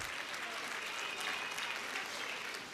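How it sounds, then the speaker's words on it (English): An audience applauds a teacher at a TeachCamp event, steady dense clapping from a sizable crowd that holds even and fairly distant throughout with no voices over it. "Please give her a good round of applause."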